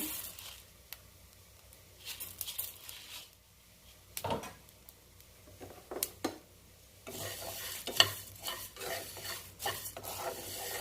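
Coriander seeds roast dry in a pan for rasam powder, stirred with intermittent scraping and rustling strokes over a faint sizzle, sometimes pausing before resuming.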